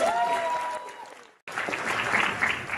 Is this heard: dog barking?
no